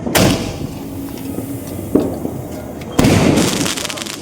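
Three loud firecracker bangs close by during Diwali and Kali Puja, spaced a second or so apart, each a sharp burst with a brief crackling tail.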